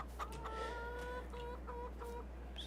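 Chickens cluck in a ranch simulation video game, with several short, close, tonal clucks in a row over a steady low hum.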